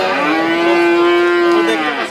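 A rain-wet Friesian bull at the Saat Mile cattle market gives one long, loud, steady moo lasting about two seconds, close by and alone above faint background noise.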